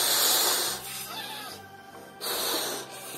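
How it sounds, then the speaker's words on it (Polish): Someone blows up birthday-decoration balloons by mouth, a loud breathy hissing rush of air in close bursts with short pauses between breaths, no talking. "ja musiałam przerwać to dmuchanie tych balonów"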